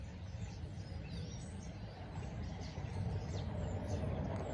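A field full of many birds calling at once, a dense, steady outdoor chorus of overlapping chirps and tweets over a constant low rumble, with faint traffic-like noise underneath.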